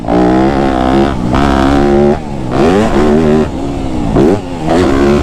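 A loud Yamaha YZ250F dirt bike engine revs up and down repeatedly, its pitch rising and falling in sharp bursts, close and harsh.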